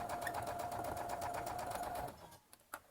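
Sewing machine stitching fabric for the front bib of an Easter bunny's overalls, a steady close whirring run of rapid stitches for about two seconds, then stopping with a couple of faint clicks.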